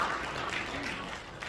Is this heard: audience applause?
yes